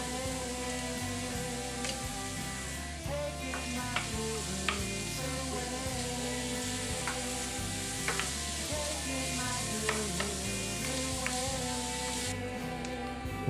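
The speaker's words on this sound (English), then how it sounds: "Put our pepper and onion in there, and we're going to saute it till the onions get translucent." Chopped pepper and onion sauté in a skillet with a constant bright sizzle, while a steady low mechanical hum sits underneath and occasional stirring clicks break through.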